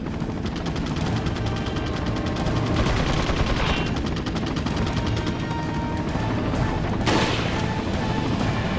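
Gunfire in Resident Evil 4 on the PS2 pounds out as dense, continuous rapid shots with booming impacts, loud and unbroken throughout.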